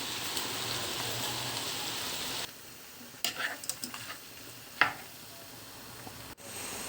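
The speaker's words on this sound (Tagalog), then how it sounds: "At igisa na rin natin ang ating seafoods." Seafood sautéing in a hot pan with pepper and garlic powder, giving a steady close sizzle for a couple of seconds that then drops to softer crackles, pops and scattered stirring clatters.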